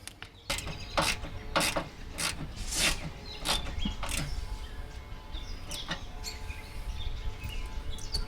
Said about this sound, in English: I'm going to go ahead and get the worm clamp tightened down